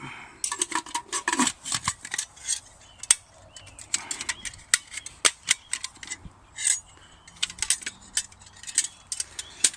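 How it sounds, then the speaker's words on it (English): A Swedish Army aluminium mess kit is handled up close, with sharp light metallic clinks, taps and clatters coming in irregular bursts against quiet gaps. "So that's the Swedish Army aluminium mess kit."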